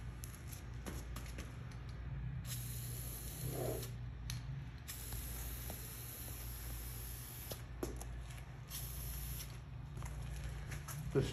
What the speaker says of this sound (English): And when you spray, you don't want to get too close because you can cause streaking.